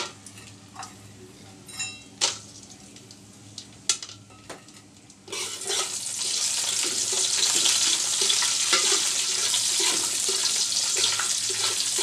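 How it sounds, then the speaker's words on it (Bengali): Peanuts and raisins frying in oil and ghee for Eid semai polao, a steady loud sizzle that starts abruptly after a few seconds of scattered clinks and taps, then holds evenly to the end. "অল্প হচ্ছে চীনাবাদাম আর অল্প কিশমিশ, এগুলো একটু তেলে ঘিয়ের মধ্যে ভেজে নিচ্ছি।"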